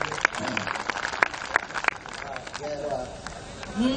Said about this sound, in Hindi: एक बार तालियां बजाएं